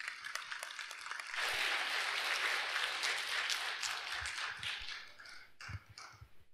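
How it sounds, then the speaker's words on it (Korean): Audience applause welcoming a speaker at an indoor Buddhist award ceremony and academic presentation, a dense round of clapping that swells after a quiet start, holds steady for several seconds, then thins out with scattered claps and faint shuffling. "큰 박수로 모시겠습니다."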